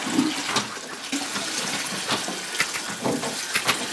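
Continuous rushing water from a hose on an organic cider farm in Normandy, with splashy, uneven gurgles, close and fairly loud, steady for the whole stretch.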